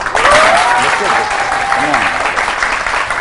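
Audience applause on a Pakistani talk show, loud and steady throughout, with a voice and a rising whoop or cheer over the clapping.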